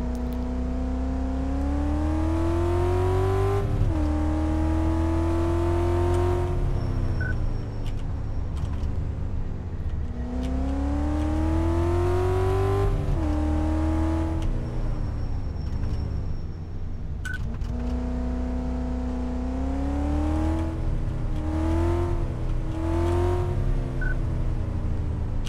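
A car on a test drive in Car Mechanic Simulator 2014, its engine reported to stop suddenly, revs steadily and loudly, rising in pitch through repeated gear changes, close and continuous with no talk.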